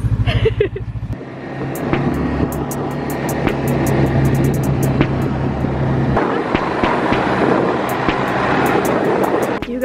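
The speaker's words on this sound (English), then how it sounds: "You guys, I rode a snowmobile." A snowmobile ride through snow in Finland, with a steady loud engine drone that holds close throughout and is broken by sharp clicks and knocks.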